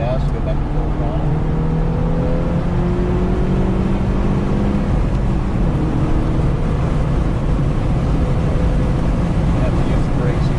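A loud car engine roars steadily at high revs at full throttle on the track at Carolina Motorsports Park, holding a sustained drone with rising and falling tones.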